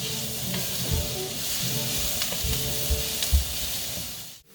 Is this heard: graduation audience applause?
no